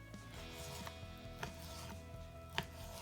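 A knife slicing raw chicken into thin strips for an Indian-style stir fry, heard as a few sharp cutting taps against a board at irregular intervals over a steady low background hum.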